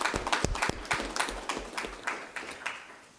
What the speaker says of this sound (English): A big round of applause for Chris.